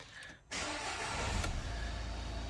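A Renault Trafic diesel van engine cranks and catches, settling into a steady, rumbling idle close by.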